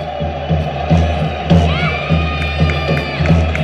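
Audience at a ballroom dance competition cheers and whoops for couples about to dance the quickstep in an open amateur standard final, loud crowd noise with shouts and claps rising in bursts over a steady murmur.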